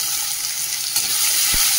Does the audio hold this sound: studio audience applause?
no